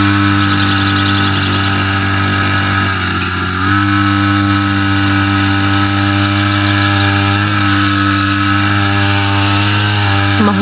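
A gasoline grass cutter runs steadily and loud beside a hut on a misty morning, its engine drone holding a constant pitch with a brief dip near the middle before resuming.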